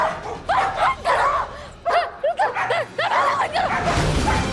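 Several dogs bark and yip in loud, rapid bursts close by during a tense household scene in a Hindi TV serial, with some whimpering mixed in.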